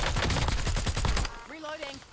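Rapid automatic gunfire from a shooter video game, a dense burst of close, loud shots for over a second, then quieter game effects with rising and falling electronic tones.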